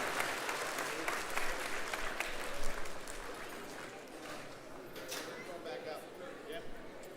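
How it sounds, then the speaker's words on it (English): A church audience at an animal vespers service claps steadily for several seconds, a dense, continuous wash of applause with voices talking over it. "should we stay quiet or should we give you applause?"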